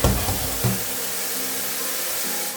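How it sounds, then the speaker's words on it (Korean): Green laver is rinsed in a strainer basket set in a bowl of water: two close splashes open, then a soft continuous trickle and slosh follows. "파래는 이렇게 채바구니에다 넣고 그리고 볼에 물을 받아서 씻어주는 게 파래의 손실을 줄이거든요."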